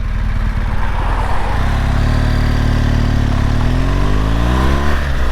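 A BMW GS1200 motorcycle pulls hard in second gear, its engine note rising steadily from a rumble to a high rev, loud and close, with wind rush throughout.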